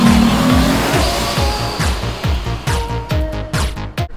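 Supercharged Jeep Gladiator Mojave pickup arriving, its engine revving in a rapid series of sharp throttle blips and bursts, loud and close, with a brief tire-like squeal at the start and no talking.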